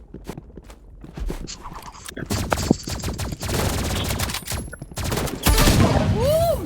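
Gunfire in a video game shooter: rapid bursts and single shots pop out between footsteps and other game noises, with intensity building toward the end.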